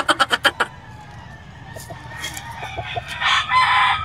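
A rooster at a poultry sale crows nearby in a loud series of pulses, followed by softer clucks and more distant crowing from other fowl in the background.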